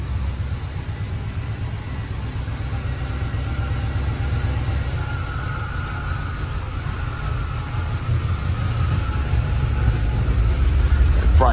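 A cold GM Performance 350 V8 crate engine idles steadily at about 950 rpm with a low, even rumble and a faint whine, close by and constant, growing slightly louder toward the end.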